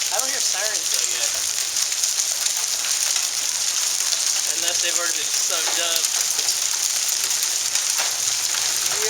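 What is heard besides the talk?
hail falling during a thunderstorm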